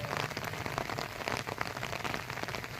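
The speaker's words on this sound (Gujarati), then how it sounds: "બપોરનો પાછો વરસાદ ચાલુ થઈ ગયો" Afternoon rain falls steadily, a dense, even patter of drops striking surfaces close by with no pauses or voices.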